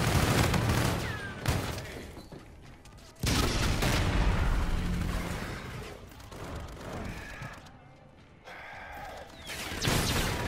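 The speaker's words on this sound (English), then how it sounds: "I'm just shooting teammates and panicking" Rapid bursts of video game gunfire crack out as a player shoots at teammates, loud volleys coming in clusters with brief gaps between them.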